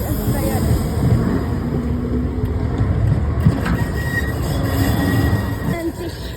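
A Poznań tram, such as a Konstal 105NA Moderus or Solaris Tramino, rolls along the tracks close by with a steady rumble and some faint wheel squeal. A voice is heard faintly under it.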